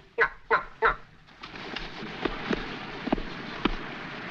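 Ducks quacking in a lively slapstick scene, three loud honking quacks in quick succession up close, followed by a looser run of fainter quacks and clatter.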